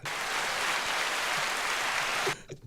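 A steady burst of crowd applause and cheering, loud and dense, cutting off abruptly after a couple of seconds.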